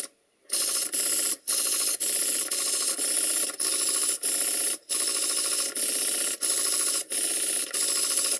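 A model steam engine on a test run gives a loud, close, continuous mechanical rattling whir, broken by brief regular gaps that come about every half second to second.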